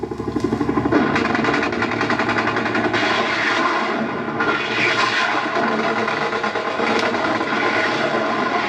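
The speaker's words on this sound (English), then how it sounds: "armed helicopters follow the artillery in, raking the landing zone with machine guns and rockets" Rapid, continuous automatic gunfire from a helicopter-mounted machine gun rattles with a dense mechanical roar beneath it, loud and unbroken throughout, during the Vietnam War.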